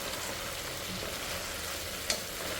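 Chicken pieces fry in a pan for a home-style Sunday chicken dish, a steady close sizzle with one brief sharp crackle partway through and no talking.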